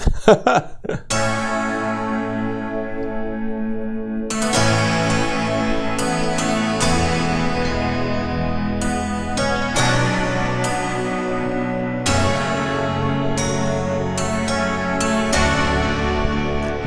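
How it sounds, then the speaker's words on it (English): Sample Logic Cinematic Keys instrument playing a harp and keys blend: sustained layered chords with bright plucked attacks, new chords struck every few seconds, loud and continuous with no talking. "Harp and keys, oh my."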